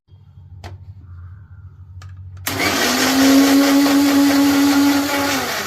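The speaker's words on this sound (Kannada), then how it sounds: "ಕ್ಯಾರೆಟು 1, ಮೆಣಸಿನ್ಕಾಯಿ, ಕೊತ್ತಂಬರಿ ಮತ್ತು ಪುದೀನಾನ ಗ್ರೈಂಡ್ ಮಾಡ್ಕೊಬೇಕು" A mixer grinder starts up after a couple of quiet seconds with faint clicks, then whirs loudly and steadily while grinding carrot, green chili, coriander and mint into a paste, with no talking.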